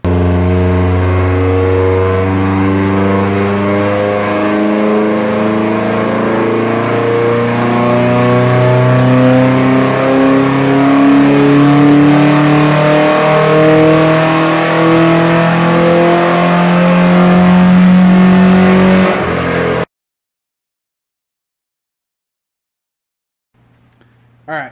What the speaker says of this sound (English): the wagon hit the dyno